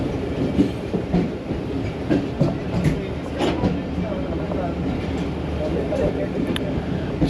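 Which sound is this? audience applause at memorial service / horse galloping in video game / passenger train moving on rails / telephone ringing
passenger train moving on rails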